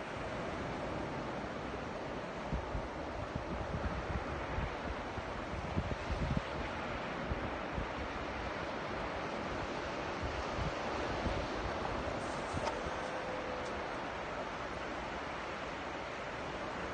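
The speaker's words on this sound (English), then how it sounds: "it is a bit windy down here." Steady wind buffeting the microphone at the shore during fishing reel testing, a broad continuous rushing noise with occasional gusty thumps, no voices.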